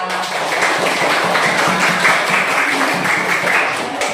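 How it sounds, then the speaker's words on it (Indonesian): Children clap together in a classroom, a dense, steady patter of many small hands that holds without a break for several seconds, close and loud. "Berikan dong tepuk tangannya mana?"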